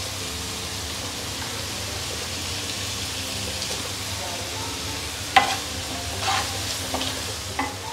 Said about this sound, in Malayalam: ഇതൊന്ന് നന്നായിട്ട് വഴറ്റിയെടുത്തിട്ട് കുറച്ച് ഉപ്പിട്ട് കൊടുക്കാം